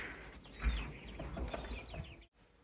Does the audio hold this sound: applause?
no